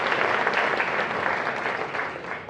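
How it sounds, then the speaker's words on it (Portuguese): An audience applauds writers on a discussion panel, with steady, dense clapping that holds for a couple of seconds before tapering off. "por favor, aplausos para Feuine e para Taís Selassie"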